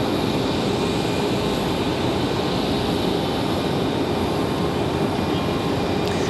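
American Airlines Airbus A321 jet at Raleigh-Durham International Airport, a loud, steady broadband engine roar filling the whole stretch, close by and without voices.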